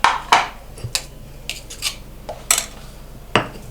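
Shrimp paste, chili and shallots are ground for sambal in a mortar, giving a series of sharp knocks and scraping strokes at an irregular, unhurried pace, close and fairly quiet with no voices.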